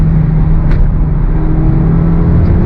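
A 2023 Honda Civic Type R pulls hard with a steady, loud engine drone and road rumble heard from inside the cabin, with a faint high whine above it and no talking.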